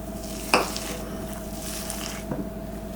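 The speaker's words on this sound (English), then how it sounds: "So now we're going to mix all our other ingredients into our dal" Mashed chana dal being stirred together with lemon juice and chopped onions in a bowl, soft wet mixing with a sharp utensil clink early and another tap later, close and fairly quiet.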